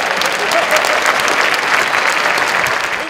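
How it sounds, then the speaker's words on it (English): A crowd claps steadily in sustained applause at a cleantech award event, dense and continuous throughout. "That deserves an applause, doesn't it?"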